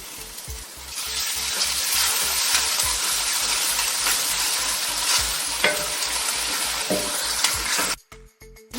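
Onions frying until light brown in a cooking pot for a potato, bell pepper and chicken curry, with a loud steady sizzle and repeated stirring scrapes that cut off abruptly near the end.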